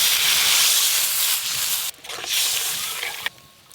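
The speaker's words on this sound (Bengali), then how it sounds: "ঝোল একদম টকবকে হয়ে ফুটে গেছে" Fish curry broth spiced with chilli boils hard in a pan, giving a loud, steady bubbling hiss that cuts out briefly twice before returning.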